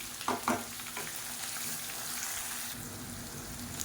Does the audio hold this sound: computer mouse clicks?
no